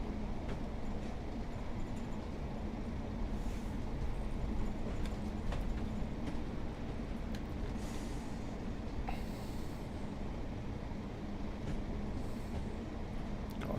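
Steady rumble of a train running in Train Sim World 5 on the all-stations route to Brighton near Purley, a continuous low rolling drone with faint clanks, no talk.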